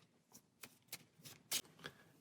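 Short quiet riffles of cards being shuffled into a deck during a tabletop card game, in about five brief bursts with one louder snap near the end.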